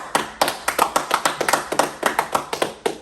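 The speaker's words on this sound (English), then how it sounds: "Let's clap it up for that." Clapping in crisp, fairly quick individual claps, close and dry, repeating in a steady rhythm for a few seconds with no voices.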